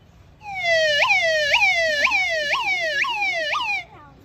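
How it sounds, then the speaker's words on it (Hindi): Ambulance siren wailing in repeated rising-falling sweeps, loud and close, lasting several seconds alone before cutting off abruptly. "ये आ गई एम्बुलेंस।"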